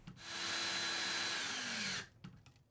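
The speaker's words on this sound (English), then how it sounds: "and then driving in the screw." A power drill drives a screw into a plastic wall anchor, whining steadily for about two seconds close up and loud, then stopping, followed by a couple of faint handling clicks.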